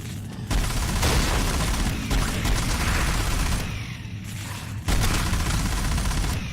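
A heavy machine gun in Hounds: The Last Hope, prone to overheating, fires long loud sustained bursts with short breaks between volleys, no voices present.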